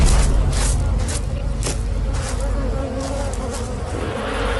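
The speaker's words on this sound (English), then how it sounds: "Bees sting to defend the hive, and most animals know it." A dense, steady buzz of many honeybees swarming close by at their hive, continuous throughout with a low rumbling undertone.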